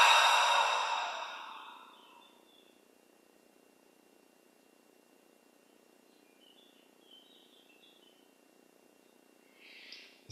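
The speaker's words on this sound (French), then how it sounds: "on inspire lentement par les narines. On garde l'air dedans quelques instants et on expire par la bouche" A slow breath goes out as a soft, airy whoosh during breathing meditation, fading over about two seconds into near silence, with a faint breath stirring again at the very end.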